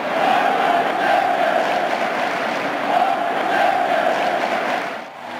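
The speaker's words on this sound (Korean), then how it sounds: "타석에 들어선 오타니를 향해 텍사스 팬들이 텍사스로 와달라고 외칩니다." Texas baseball fans in a big-league stadium chant and shout together as a steady, dense roar, loud and unbroken from start to finish, with rising and falling swells of massed voices.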